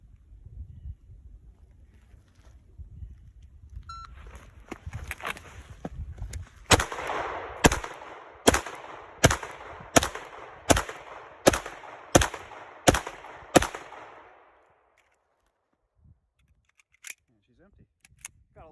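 A Springfield Range Officer Elite Operator 1911 9mm pistol, drawn from a holster, fires a string of about ten loud, sharp shots in an even, quick rhythm. A few scattered softer shots come before and after the string, outdoors on a range.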